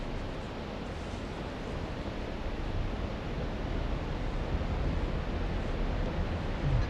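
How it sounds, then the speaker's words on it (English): Michigan River flowing beside a Colorado campground, a steady broadband rushing of water heard throughout with no talk. "I can hear the river."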